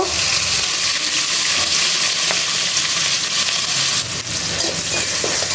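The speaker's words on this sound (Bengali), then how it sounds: "দেখো পেঁয়াজ দিয়ে পেঁয়াজ ভেজে নিচ্ছি হলুদ দিলাম" Onions and turmeric fry in a pan with a loud, dense sizzle and occasional scraping stirs, steady throughout with no talking.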